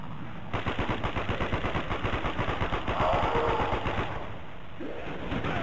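A submachine gun fires a long, rapid, loud burst in Black Ops Zombies, close and steady for several seconds.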